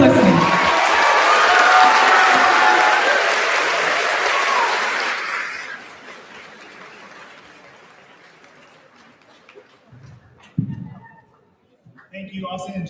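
A graduation audience gives loud, sustained applause with some cheering that fades after about six seconds, followed by quiet room sound, a brief burst of noise, and a voice speaking near the end.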